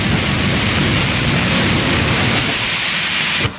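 A jet car engine fires before a race, roaring continuously at close range with a steady high whine over deep rumble, cutting off abruptly at the end.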